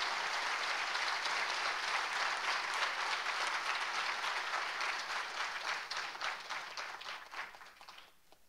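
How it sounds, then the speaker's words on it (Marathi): A crowd at a book launch ceremony claps in a long, dense round of applause that holds steady, then thins and fades out toward the end. "आपण टाळ्या वाजवून सत्कार करूया."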